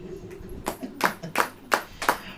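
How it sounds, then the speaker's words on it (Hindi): A church congregation claps in rhythm during a sermon, giving about five sharp, evenly spaced claps that stand out clearly against a quiet background. "ताली बजाइए।"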